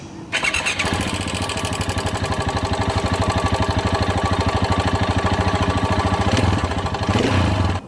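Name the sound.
KTM motorcycle engine ticking, likely cam chain tensioner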